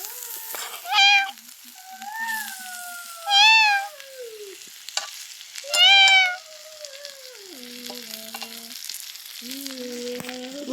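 A cat in a home kitchen gives three clear, drawn-out meows close by, spaced a couple of seconds apart, over the steady sizzle of chicken frying in a pan.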